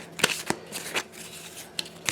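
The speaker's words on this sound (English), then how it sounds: "So let's just give it a quick shuffle." A deck of cards is shuffled close up for a board game, a few quick crisp riffles and flicks in short bursts, with no talking.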